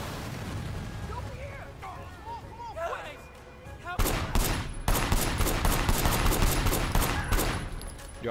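Gunfights in the video game Sleeping Dogs Definitive Edition: after a few seconds of voices and game sound, a sudden run of loud, rapid gunshots and fusillades erupts and keeps going, with shouting mixed in.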